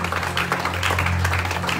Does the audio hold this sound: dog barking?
no